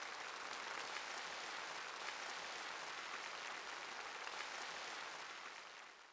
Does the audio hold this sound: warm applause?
yes